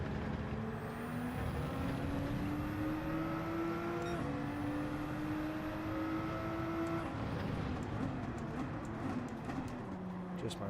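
A race car in Gran Turismo 7 drives at speed with a faint, continuous engine whine whose pitch climbs through the gears, plus brief sharp transients, and no talking.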